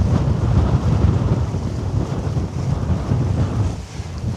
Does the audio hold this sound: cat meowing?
no